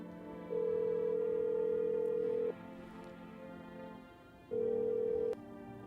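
A telephone in a video game sounds a long steady tone, then a pause, then a second shorter tone, loud and close against a faint hum with no voices.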